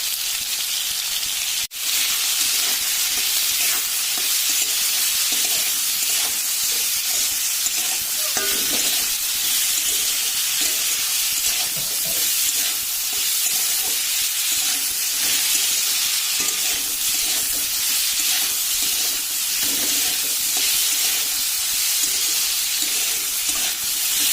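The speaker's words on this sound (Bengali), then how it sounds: "আলু বেগুনটা ভালো মতন ভাজা হয়ে গেছে" Cut potato and eggplant with salt and turmeric fry in hot oil, a loud continuous sizzle with occasional stirring scrapes throughout, heard alone without speech.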